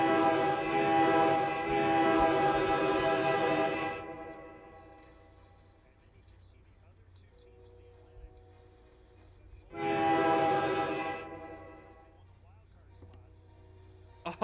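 A train passes with loud horn blasts near a hockey arena during a Flyers vs Bruins preseason broadcast: a long horn burst, a lull with low rumble, then a second horn blast, heard alone without talk.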